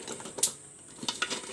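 Gaja sweets being stirred through sugar syrup in a pan, with light clinks and soft scraping taps of a utensil against the metal in a short, irregular patter.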